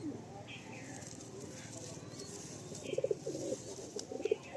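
A white male Madrasi pigeon with feathered feet coos in soft, low bursts near the end, over a steady background hum with a voice talking nearby.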